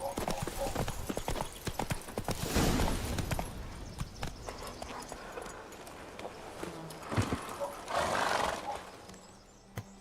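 Hooves of the horse Roach clop along in The Witcher 3, a soft irregular rhythm of footfalls with faint game ambience and a low, muffled mix throughout.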